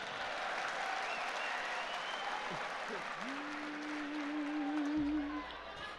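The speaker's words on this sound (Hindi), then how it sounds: "एक बार ताली बजा दो।" Audience clapping at a Grand Mushaira poetry gathering in Indore, a steady wash of applause from the crowd throughout, with a sustained tonal hum and some voice-like sounds rising through it.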